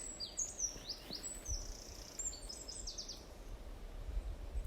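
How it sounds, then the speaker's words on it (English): Faint birdsong in autumn woodland with quick, high chirps and trills from several birds at a distance, over a low, quiet background. "We have birdsong instead, as if right on key."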